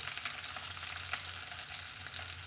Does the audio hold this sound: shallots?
yes